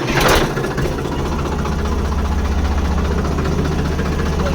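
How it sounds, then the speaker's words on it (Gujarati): A farm tractor started after sitting unused for a few days in rainy weather settles into a loud, steady diesel idle with a low rhythmic chug. A brief burst of noise at the start is followed by the continuous close engine. "જોઈ શકો છો મિત્રો આપણે ફાઇનલી ટ્રેક્ટર ચાલુ કરી દીધું છે."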